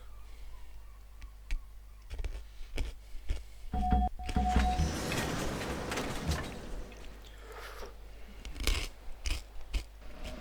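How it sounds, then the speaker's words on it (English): Peanuts with a crunchy coating are chewed close up, giving irregular crisp crunches and bites that grow denser in the middle before trailing off into scattered crunches. "Yes, I'm chewing some more peanuts, alright? Yes, they're peanuts with a crunchy layer."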